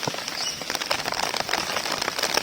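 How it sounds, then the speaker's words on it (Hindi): Heavy rain pours steadily on a cardboard box and nearby surfaces, a dense, continuous hiss of drops with scattered sharper pattering close to the microphone throughout. "तो बारिश बहुत तेज़ है"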